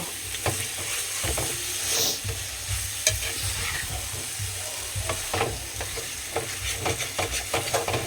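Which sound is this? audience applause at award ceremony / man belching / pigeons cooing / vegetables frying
vegetables frying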